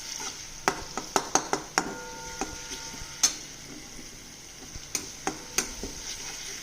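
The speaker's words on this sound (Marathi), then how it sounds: "आता आपण लसूण परतून घेत आहोत।" Crushed garlic sautéing in oil with chopped onion for kurdai bhaji gives a soft, steady sizzle, punctuated by a string of sharp clicks and taps from a spoon stirring against the pan.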